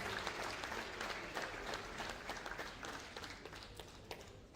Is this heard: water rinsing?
no